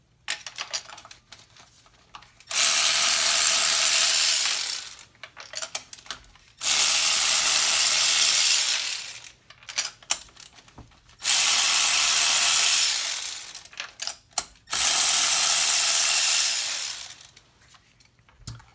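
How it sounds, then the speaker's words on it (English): Ratchet wrench with a 5/8 spark plug socket removing spark plugs from a Toyota MR2 engine, heard as four long bursts of rapid, loud clicking separated by short pauses, with no talking. "with the 5/8 spark plug socket,"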